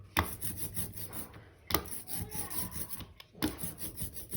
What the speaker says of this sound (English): You can kind of hear that stickiness of the ink moving around.